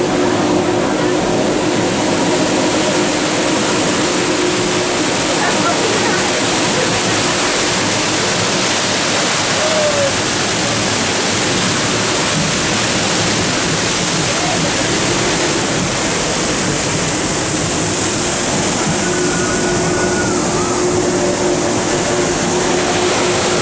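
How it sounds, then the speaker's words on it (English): A waterfall at the Dallas Zoo, passed on the Wilds of Africa monorail ride, gives a steady, full rushing wash of falling water that continues without pause. "Beautiful waterfall."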